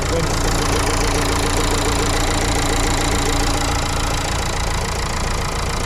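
Close, continuous idling of a Dacia Stepway engine, a steady mid-pitched mechanical drone with faint ticking texture, holding level throughout.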